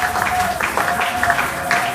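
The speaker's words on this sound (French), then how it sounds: "Nous acclamons pour la parole du Seigneur" Congregation applauding in a church, steady clapping from a crowd sustained for a couple of seconds, with a sustained tone and some voices beneath.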